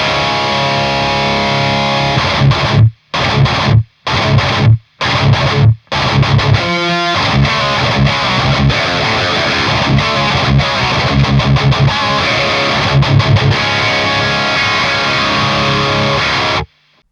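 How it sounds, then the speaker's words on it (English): A PRS Tremonti guitar's bridge pickup played through a Bogner Uberschall distortion module on the red channel, heard as loud, aggressive high-gain riffing with several sharp stop-start breaks early on, then continuous heavy chugging to the end. "the bridge pickup sounds something like this"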